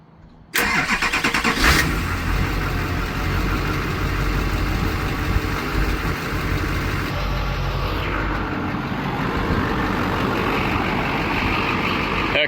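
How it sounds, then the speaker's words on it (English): An LB7 Duramax diesel truck engine, bought sight unseen at auction and sitting for five years, cranks and fires, then settles into a loud, steady, rumbling idle close by for the rest of the stretch. "I'm about to fire her up, I guess, see what happens"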